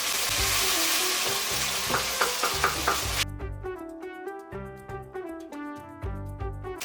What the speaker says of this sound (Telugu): టొమాటో వేసేసుకుని కొంచెం ఉప్పు వేసుకుని టొమాటోలు త్వరగా మగ్గేంత వరకు వేయించుకోవాలి